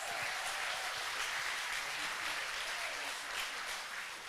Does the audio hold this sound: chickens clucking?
no